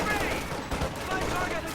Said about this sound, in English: That's why you have the machine gun. 50 cal going after these guys.